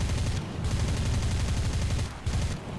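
Rapid, continuous aircraft gunfire in War Thunder rattles loudly and densely for nearly three seconds with only brief pauses, and no voices over it.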